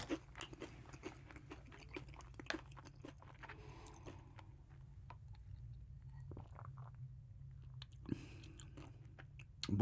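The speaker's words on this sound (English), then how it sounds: "smell the jalapeno chips there. All right, and let's give this a taste" Close, crisp crunching and chewing of jalapeno potato chips, with repeated sharp bites and steady mastication over a low background hum, no talking.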